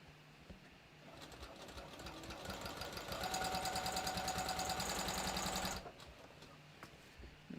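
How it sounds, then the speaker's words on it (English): Sewing machine stitching a bathrobe seam, a rapid, even mechanical hum that starts softly, builds to a steady, louder run for a few seconds, then stops abruptly, heard close with no talking. "I'm just gonna stitch right down this other side."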